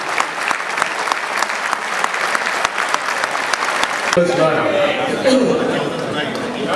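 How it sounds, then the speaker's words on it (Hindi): Loud, dense applause fills a hall at a poetry gathering for about four seconds, then breaks off as a voice begins speaking over a murmuring crowd. "इस छत को फाड़ दीजिए तालियों से"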